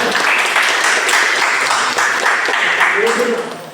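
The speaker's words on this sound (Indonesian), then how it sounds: "Tepuk tangan dulu untuk ketiga orang." Classroom applause in a university entrepreneurship class, a room of students clapping steadily for several seconds while voices talk faintly underneath.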